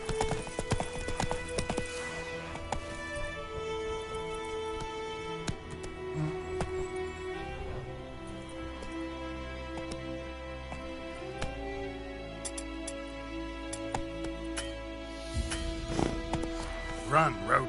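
Roach the horse galloping in The Witcher III, a steady run of hoof clip-clops under game music and a talking voice, heavier toward the end.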